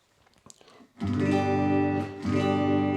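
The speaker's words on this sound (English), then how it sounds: "Just sounds like a regular clean guitar." After a few faint taps, a clean, undistorted custom Deepset electric guitar in the middle pickup position rings out with two sustained strummed chords, close and clear.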